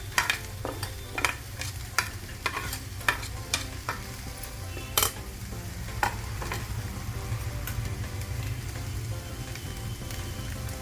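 Chopped vegetables sizzle steadily in a hot pan for a ragi vegetable parotha filling, broken by repeated sharp scraping strokes of a spatula stirring through the mix, close and continuous with no talking.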